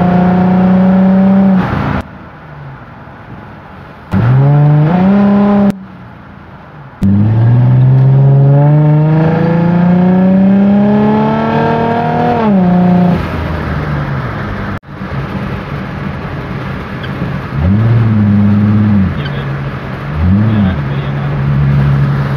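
A car on a test drive after a repair for fault code P0191, its engine note rising and falling through repeated accelerations, loud and close, with a brief pause or two and steadier cruising toward the end.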